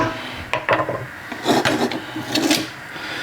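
Beef shin and broth stirred in a cooking pot, a few scraping, rubbing strokes coming in irregular bursts, close and fairly quiet, with no talking.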